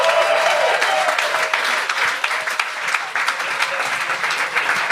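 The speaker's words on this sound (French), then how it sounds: "humoristes qui étaient là ce soir. On les applaudit!" A comedy show audience applauds the comedians, a dense, loud, sustained wave of clapping with faint voices mixed in.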